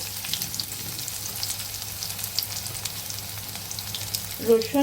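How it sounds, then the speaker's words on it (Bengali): Black cumin seeds fry in hot oil in a pan for a bathua greens dish, giving a steady close sizzle throughout, with a short clatter of stirring near the end. "প্রথমে কালো জিরে কিছুক্ষণ ভাজতে দিতে হবে, নাহলে তেতো বেরোবে"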